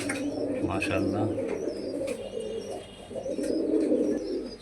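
Several pigeons of good breeds coo continuously nearby in their loft, low rolling calls layered together with occasional higher chirps on top.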